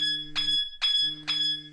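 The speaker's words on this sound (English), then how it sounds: "I press the OK button and now we see the device is now ringing" DENSO tracking device sounding its alarm, a rapid repeating pattern of short electronic beeps pulsing about twice per second over a steady low tone, close and clear.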